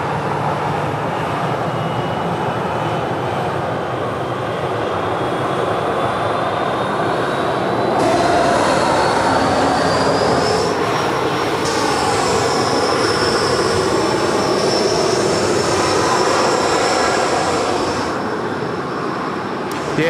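A regional turboprop such as a Jetstream 41 accelerates around a taxiway corner at Sydney Airport, a steady engine roar that swells midway, with a rising whine that climbs and then holds as the aircraft nears.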